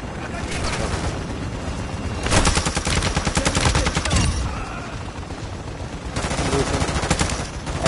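Bursts of rapid automatic gunfire from a shooter video game during a siege event, loud and close, with a dense rattling stretch in the middle and further volleys around it over a busy game soundscape.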